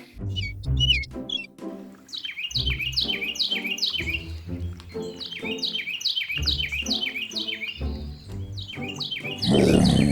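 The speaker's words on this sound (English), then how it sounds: "Let's use our ears to listen to the birds sing." Forest birds sing and chirp in dense, repeated high tweeting phrases over several seconds, loud and close, mixed with other animal-like calls and no speech.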